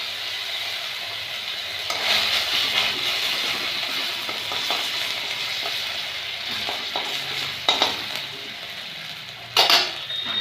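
Ginger pieces fry in leftover oil in a pan, giving a steady close sizzle with occasional scraping stirs and metallic clinks of a utensil against the pan.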